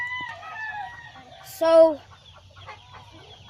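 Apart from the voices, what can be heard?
chickens clucking on a chicken farm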